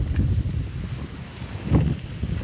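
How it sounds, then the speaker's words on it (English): Strong wind buffets the microphone at the Hamburg Trail trailhead in Weldon Spring, Missouri, producing loud, uneven low-pitched roaring gusts that swell and ease, with one heavier blast near the end and no talk. "It is windy as hell."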